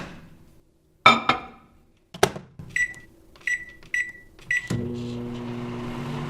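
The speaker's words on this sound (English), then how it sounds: "He melted it in the microwave." Clunks and a door click, then a series of short electronic beeps from a keypad, followed by the steady low hum of a microwave oven starting up to melt a crayon.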